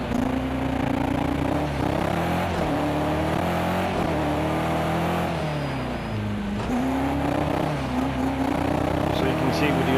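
The engine of a BMW M6 GT3 race car at Brands Hatch in the Project Cars 2 video game rises and falls through revs and gear changes, a continuous droning roar with someone talking over it.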